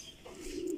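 Racing pigeons give a short, soft coo, faint and heard alone for under a second.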